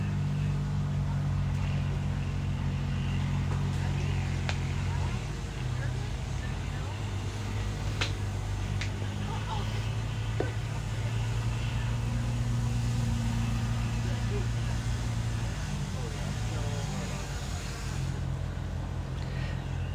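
Youth 170 cc UTVs race on a one-mile dirt course at an outdoor event, their engines droning steadily in the background with varying pitch.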